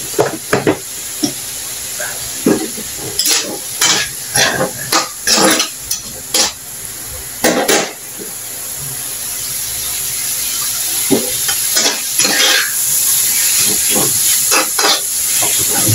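Bitter gourd (ampalaya) sautéing with egg in a pan, bursts of hissing sizzle and stirring scrapes in the first half, then a steadier rising frying hiss with sporadic clatters, no talking.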